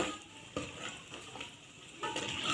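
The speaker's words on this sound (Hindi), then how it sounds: "यहाँ पे मैंने एक कढ़ाई ली थी, उसमें एक अदद प्याज ऐड किया है और साथ घी ऐड किया है" Onion frying in hot ghee in a kadai, a soft continuous sizzle broken by a few stirring scrapes, close but quiet, with no talking.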